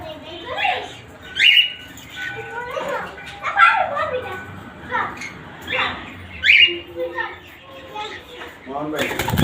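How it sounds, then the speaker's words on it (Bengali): A pet cockatiel gives repeated bright squawking calls in short bursts, fairly close, with people talking over and between them throughout. "মোহন ভাই এই পাখিটা আমাদের দিয়ে গেছে"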